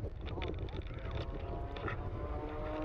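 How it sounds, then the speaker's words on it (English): A steady, powerful 300 horsepower air-cooled piston aircraft engine drones throughout a low-level air festival display, loud and continuous, with a commentator talking over it. "You can just hear the power from that great 300 horsepower engine."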